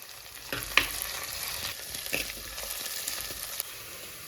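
Green chili and curry leaves sauté for a Keera fish curry with a continuous close sizzle and hiss, broken by a few light stirring clicks and pops.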